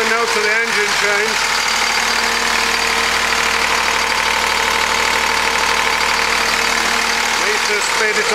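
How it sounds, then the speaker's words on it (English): A small engine runs steadily while driving an asynchronous generator, a continuous mid-pitched drone with harmonic lines that shift slightly as the engine is sped up, loud and close throughout. "You'll hear the note of the engine change."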